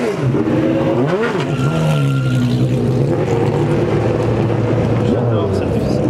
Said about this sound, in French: J'adore cette Ferrari là